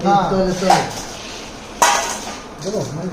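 Bowls clink and knock together as they are handed over in a home kitchen, giving two sharp ringing hits, while someone talks around them.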